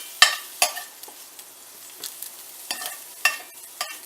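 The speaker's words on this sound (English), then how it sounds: "So we'll get the rest of this sausage out of here." Sausage is scooped out of a sizzling skillet with a few sharp, close scrapes and taps of a utensil on the pan. A faint sizzle sits between the strokes.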